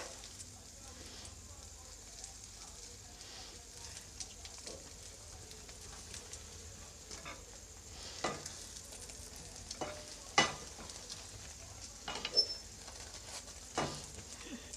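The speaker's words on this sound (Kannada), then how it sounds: "ಈ ಥರ ರೋಸ್ಟ್ ಮಾಡೋದ್ರಿಂದ ಟೇಸ್ಟ್ ತುಂಬ ಚೆನ್ನಾಗಿ ಬರುತ್ತೆ ನಾವು ತುಪ್ಪದಲ್ಲಿ ಉರಿಯೋದ್ರಿಂದ" Masala roasting in ghee in a pan for spicy masala buns: a faint, steady sizzle with soft stirring scrapes and a few sharper utensil knocks toward the end.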